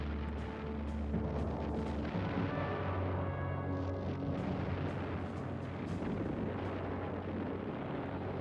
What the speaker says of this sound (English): pulverizing the coast in response to distant enemy artillery and machine gun fire